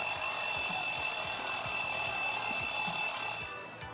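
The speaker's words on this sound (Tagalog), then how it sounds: "Alarm. Alarm clock." An alarm clock set as a medicine reminder rings with a continuous high, steady electronic tone for several seconds, then cuts off, alone with no talking.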